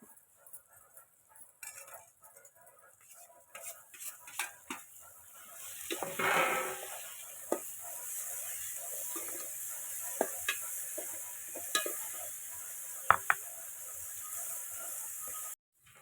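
Okra and tomatoes dropped into a hot pan and stirred, a rising hiss of steam and sizzle that settles into a steady fry, with scattered utensil taps and clinks.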